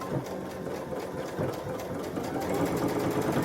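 A sewing machine runs steadily, sewing decorative stitches onto a kitchen towel, with a continuous whirring hum throughout and no talk.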